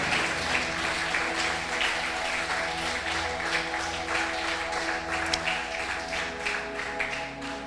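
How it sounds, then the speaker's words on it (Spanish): A church congregation applauds steadily throughout, dense continuous clapping filling the room with no voice on top. "Dele un aplauso al Señor"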